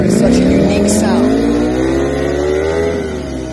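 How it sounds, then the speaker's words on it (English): A Ducati Panigale V4R drag bike's V4 engine screams at drag racing, revving high and sweeping up in pitch as it pulls away, loud and close, with a commentator's voice over it. "That V4 is such a unique sound."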